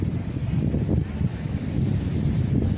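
Wind gusting at a seashore near Hua Sai, steady low rumbling buffets against the microphone with a constant roar underneath and no distinct voices.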